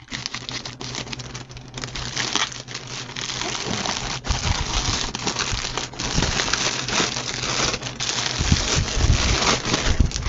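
Plastic packaging around a Temu wire stripper is cut open with scissors, a busy run of crinkling, rustling and snipping close by, steady and fairly loud throughout.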